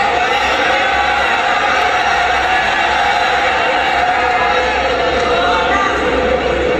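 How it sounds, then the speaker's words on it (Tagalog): A FlipTop rap battle crowd roars and cheers in a dense, steady, loud wash of voices that holds throughout, with talk mixed in. "Solid talaga ng crowd ng flip-top na."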